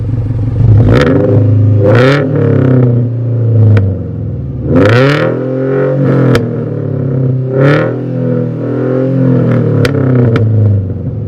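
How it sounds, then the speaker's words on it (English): A loud car engine with an aftermarket header on a Toyota 86-type sports car revs hard several times in a row, each rev rising sharply then dropping back to a throaty idle. "going to give us some revs. It's going to be pretty loud"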